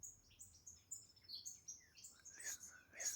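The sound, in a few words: early morning birds chirping in feeding tree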